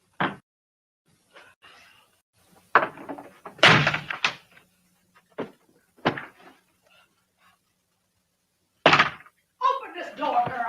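An indoor door is shut with a few scattered thuds and knocks among quiet stretches, while people talk in between.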